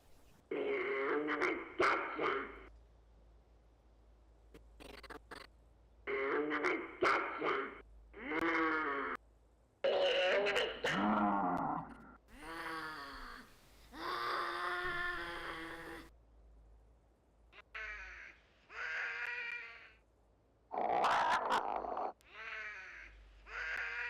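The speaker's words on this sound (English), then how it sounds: "effects in Premiere to try and give the sound that I wanted the creatures to make" Distorted, warbling creature cries come in short bursts separated by pauses, some harsh and screechy, others bleating and growly, all heavily processed.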